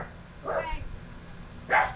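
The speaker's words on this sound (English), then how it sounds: "Cuff, what are you barking at?" A dog gives two short, moderately loud barks about a second apart against a quiet background.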